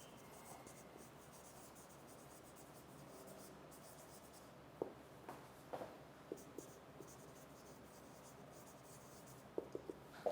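Pen or marker writing out answer options during an online English entry-test lecture, heard as faint scratchy strokes with a few brief clicks and taps over a low, steady room hum, no talk.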